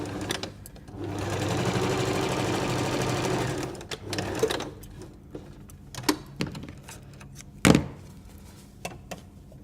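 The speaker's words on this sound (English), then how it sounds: "sew from that top seam down to the ends just as before" A sewing machine stitches the seam of a napkin cutlery pouch in one steady, loud run of about four seconds, then stops, followed by scattered handling clicks and a sharp knock.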